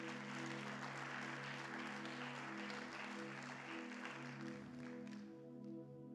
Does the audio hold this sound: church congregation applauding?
yes